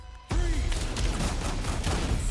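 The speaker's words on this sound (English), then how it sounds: "We've got gunshots." Gunfire from the Battlefield Hardline video game trailer, a sudden loud burst of rapid overlapping shots erupting from near-quiet and continuing as a dense, booming fusillade.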